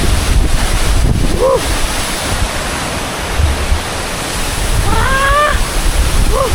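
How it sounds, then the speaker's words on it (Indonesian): Tancak Panti waterfall near Jember rushes with a loud, constant roar of falling water, mixed with wind buffeting the microphone and a few brief high chirping tones. "Air terjun Sancak Jember."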